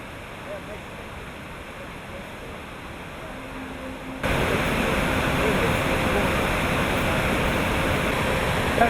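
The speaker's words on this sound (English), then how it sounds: "I think the waterfall here has to be one of the best." Waterfall at Hellesylt, Norway, giving a steady broadband roar of rushing water that holds constant, then jumps noticeably louder partway through and stays loud.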